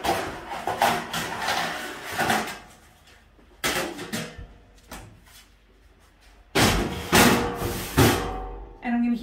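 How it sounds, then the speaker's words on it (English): A lid set onto a pot of dyed yarn gives a few short knocks and scrapes. The bumps come in separate bursts with quiet gaps between them. "now I'm just going to put a lid on this"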